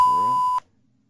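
A single steady electronic beep from a house phone while voicemail messages are checked, lasting about half a second before cutting to silence.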